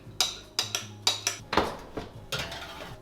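Metal cake pans clink and clatter as they are handled and slid into a home oven. About eight short, bright knocks come in a quick uneven rhythm, close and moderately loud, with no talking.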